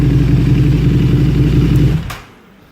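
Warmed-up KTM 1290 Superduke R engine idling during throttle body balancing, a loud steady throbbing rumble close by that cuts off near the end, leaving quiet.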